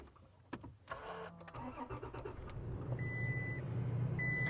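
A car engine cranks and catches, then settles into a steady idle at close range, with faint electronic chimes over it.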